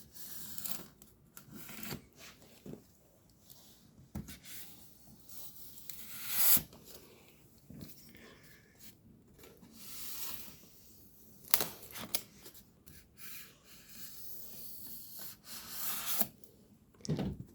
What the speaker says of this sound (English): whenever cutting a box open, you should use the most appropriate blade